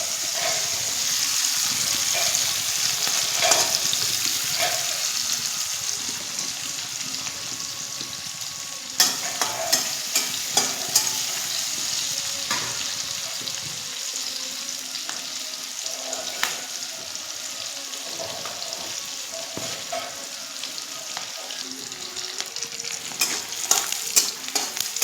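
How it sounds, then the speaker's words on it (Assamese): Onions and three green chillies frying in a pan with leftover oil after fish, a steady sizzle with stirring scrapes and occasional clinks throughout, close and loud, no talk. "এইখিনি ৰঙচুৱা হোৱালৈকে অলপ ভাজি ল'ম।"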